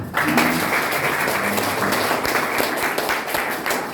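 A church congregation claps together, loud dense clapping running throughout with faint tonal music or voice underneath early on.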